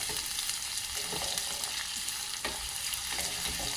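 Sliced onions sauté in a pan for a wedding-style pickle, producing a dense, steady sizzle with soft scraping as they are stirred. The sound is continuous at moderate volume, with no talking.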